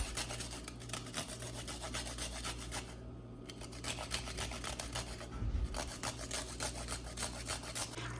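Frozen green chillies rasped against a grater in a home kitchen, a steady run of rhythmic scraping strokes at close range with a brief pause midway, heard alone.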